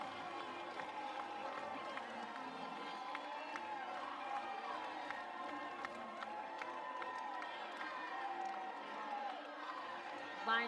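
A packed stadium crowd at a college softball game, Oklahoma versus Washington, cheers and roars steadily after a home run, a dense sustained wall of voices with whoops rising near the end.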